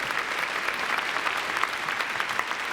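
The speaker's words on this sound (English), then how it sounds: "give them applause" Audience applause at a university investiture ceremony, steady and dense across the whole stretch, a broad even wash of many hands clapping at moderate distance with no talk over it.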